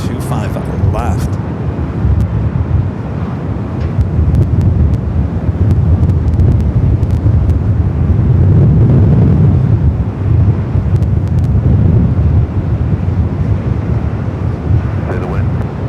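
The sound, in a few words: gusty wind blowing at Los Angeles airport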